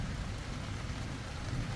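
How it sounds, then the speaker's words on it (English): Heavy rain pours down steadily outside a tent, a loud, dense, continuous hiss with deep low rumble throughout and no talking. "the rain just started coming down profusely"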